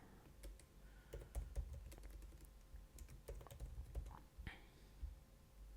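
Quiet, close keystrokes on a computer keyboard while code is written, an uneven patter of clicks with brief pauses and a few heavier key presses, with no voices.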